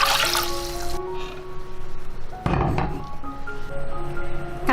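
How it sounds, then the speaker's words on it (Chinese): Water poured into a pot holding soaked red beans and lotus seeds, a brief splashing gush in the middle over faint kitchen clinks and background music. "再加入适量清水"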